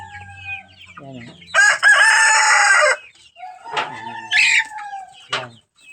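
A rooster crows once, long and loud, close by, then clucks and makes shorter calls, with a few quieter bird noises in between and near-silent gaps.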